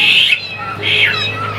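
A newly acquired caged songbird sings in bright, high squawking phrases, two loud bursts separated by a softer pause, close and clear with no voices.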